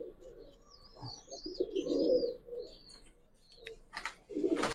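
Young red Gribaz pigeons give soft, low cooing calls in several short bursts at close range, with a few chirps mixed in. The setting is quiet and no one speaks.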